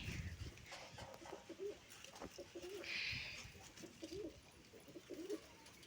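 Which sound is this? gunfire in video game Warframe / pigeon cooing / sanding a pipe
pigeon cooing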